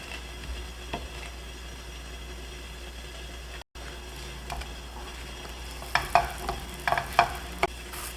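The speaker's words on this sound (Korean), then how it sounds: "그 다음에 지글지글 소리가 나면 불을 꺼주도록 합니다." Soft, steady sizzling of rice cakes frying in a pan, with a faint background hum and a few louder crackles and spatters toward the end.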